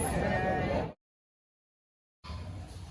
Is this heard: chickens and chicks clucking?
no